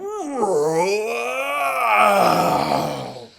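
A voice imitates a huge roar like the loudest yawn, one long loud groaning bellow that swells, wavers in pitch and fades out over a few seconds.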